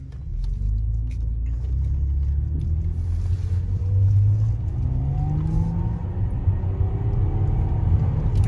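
An Opel Insignia OPC car accelerates with a loud, steady low engine rumble and rising rev tones, continuous and close throughout.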